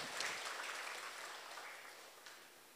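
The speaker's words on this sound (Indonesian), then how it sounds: "Tepuk tangan dulu." Faint, distant applause from an audience at a teachers' seminar on the Merdeka curriculum, a soft, even patter of clapping that slowly fades over a few seconds.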